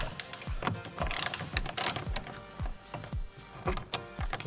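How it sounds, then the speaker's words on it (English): A socket ratchet clicks steadily in quick repeated strokes, close and clear with no talk, as an 8mm bolt is removed from a Ford Fusion door during door handle replacement. "you're just going to use a socket set and remove that bolt."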